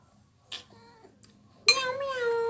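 A cat meows while eating near some clinking dishes: a faint chink first, then one loud drawn-out meow close by near the end.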